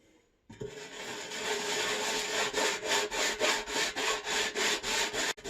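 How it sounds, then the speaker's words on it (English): A copper pot's interior scrubbed with salt and lemon: close, steady rhythmic scrubbing strokes, quickening into regular back-and-forth rubs toward the end, with no talking. "the inside of this copper pot is pretty bad. I'm gonna start with just doing a little salt and the lemon."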